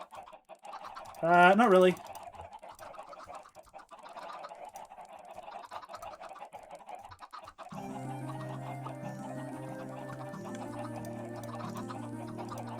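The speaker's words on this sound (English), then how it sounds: "Apologies for the noises of chickens." Chickens clucking in the video game Minecraft, a brief loud squawk near the start, then a steady, layered stream of repeated clucks over background music, with a short spoken remark.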